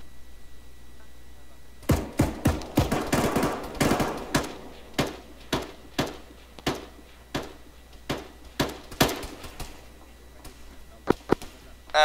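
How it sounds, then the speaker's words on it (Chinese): Machine gun fire in the military video game ArmA: a rapid cluster of sharp shots opens after a quiet start, then thins into spaced single and double bangs at an irregular rhythm, loud and crisp over a low steady hum. "现在主动开火了，刚才那个机枪已经暴露了"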